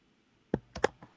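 A few light computer mouse clicks while renaming a map in redistricting software, close and quiet, in a short uneven cluster of about four taps.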